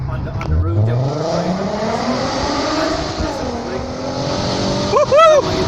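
A VW Mark 5 R32 engine echoes in a tunnel during a drive, a loud booming drone that rises and falls with the throttle. A short tonal squeal comes near the end, and a voice is briefly heard.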